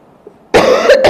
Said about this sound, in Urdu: یہ کھانسی کی وجہ سے پسلیوں میں بھی درد ہے